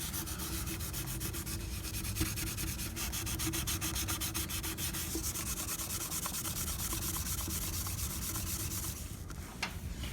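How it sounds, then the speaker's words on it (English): A Brillo pad scrubs hard across a rusty aftermarket truck mirror, giving a close, loud, continuous abrasive rasping that holds steady for several seconds and eases slightly near the end. "Using a Brillo pad,"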